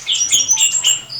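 Bright, high-pitched magpie robin chirps and trills tumble rapidly over one another, close and loud, with no other sounds.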